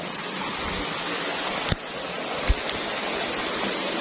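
A hidden forest stream beside a rough, overgrown trail rushes in a steady, full wash of water, with a couple of faint knocks breaking through the constant flow.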